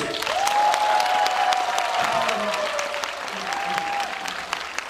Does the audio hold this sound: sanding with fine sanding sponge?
no